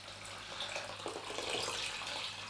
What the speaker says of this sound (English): 600 mils of water. Just normal water at the tap, nothing fancy.